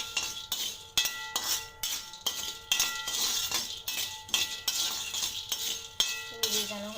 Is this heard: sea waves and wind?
no